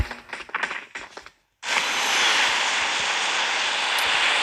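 A loud, steady airplane engine roar in PUBG Mobile starts abruptly after a brief gap and holds constant, preceded by a few seconds of choppy mechanical sounds.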